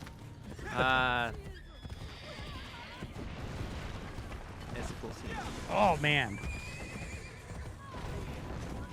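A horse in the video game Assassin's Creed: Brotherhood neighs twice, with galloping hoofbeats and game noise underneath, while people talk over the gameplay.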